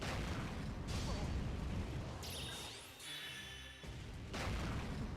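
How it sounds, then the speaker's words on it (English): Explosions in a video game during a live stream: dense, continuous booming and crashing blasts with a brief sharp burst and a mid-clip lull, quiet overall and mixed with game effects. "Oh wow, explosions."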